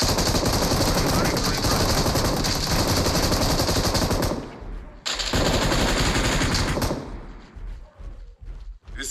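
Gunfire in a shooting video game: loud, dense automatic bursts fill the first half, then pause and resume before thinning into scattered shots and thumps.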